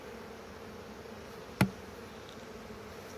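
A steady, faint hum of many honey bees buzzing around a hive nearby, broken by one sharp click partway through.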